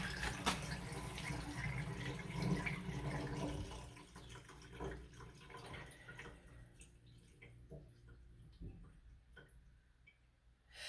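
Running water pours steadily into a newly installed undermount kitchen sink, filling the drain trap, gradually quieting as the flow settles, with faint drips and clinks toward the end.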